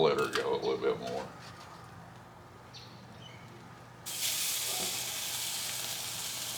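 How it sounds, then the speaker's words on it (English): A tomahawk steak sizzles over live fire in a wood-fired oven: a steady broadband hiss that jumps louder partway through, with a few voices murmuring briefly at the start. "hear that sizzle?"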